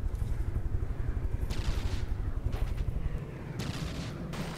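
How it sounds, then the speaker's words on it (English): LAM missile launchers fire in a video game fight, a rapid, evenly spaced run of heavy low thuds broken by a few hissing rushes, loud and unaccompanied by speech. "I believe I hear the LAMs firing."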